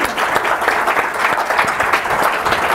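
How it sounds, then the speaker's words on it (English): Steady, dense clapping from a conference audience thanking a panel, close and loud throughout the short stretch. "Please join me in giving a round of applause to our panelists."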